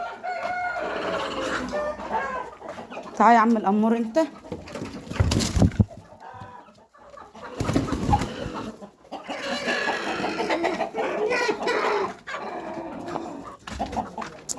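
Chickens cluck and a rooster calls nearby while a person talks over them, the birds sounding in scattered bursts between the speech.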